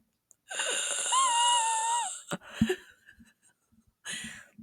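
A voice imitates the rasping, whistling wheeze of Nosferatu, drawn out for a couple of seconds, followed by breathy sputters and another short wheezing breath.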